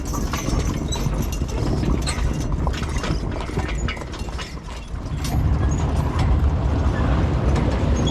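A four-mule hitch of logging mules walks along, their hooves clip-clopping in a steady, fairly close rhythm over a continuous background of rattling harness and equipment, with no talk.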